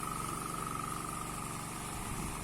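A motor-driven watering machine for irrigating dragon fruit plants drones steadily at a distance, with an even mechanical hum and a faint high whine and no break in the running.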